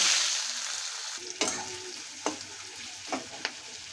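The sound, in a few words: chopped onion frying in a pan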